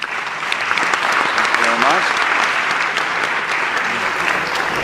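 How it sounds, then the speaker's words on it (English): Audience applause for a panel at a discussion event, a steady, fairly loud wash of clapping with a brief voice audible underneath partway through. "How about we give the panel here a great hand of applause for that?"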